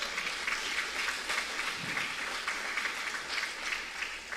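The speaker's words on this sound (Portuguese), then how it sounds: "Quem vai aplaudir a Deus aqui?" Applause from a church congregation during a sermon, a steady dense wash of many hands clapping at moderate distance, sustained evenly throughout with no voices on top.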